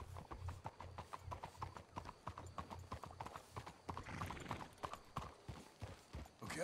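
Horse hooves clip-clop in a quick, even rhythm in the video game Red Dead Redemption 2, close and steady, with a brief snort or whinny partway through.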